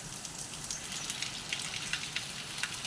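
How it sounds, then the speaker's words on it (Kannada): Steady rain patters on a surface, with scattered distinct drops ticking over a constant wash of hiss. "ಜೋರುಂಟು ಮಳೆ ನಾನು ಲೈಟ್ ಹಾಕಿದ್ದೇನೆ"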